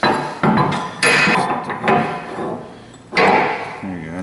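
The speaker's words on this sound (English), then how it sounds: "you get yourself a flat punch and you get right on top of that slag and you whack it with a hammer" A hammer strikes a flat punch to chip welding slag off a two-post car lift, giving several sharp metallic whacks spaced about a second apart, loud and close, with a voice briefly heard near the end.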